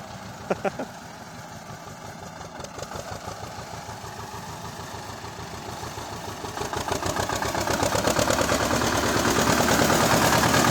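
A T-25 tractor engine chugs steadily while ploughing heavy virgin soil, its rhythmic knocking growing louder and more intense toward the end, with a few sharp bangs early on.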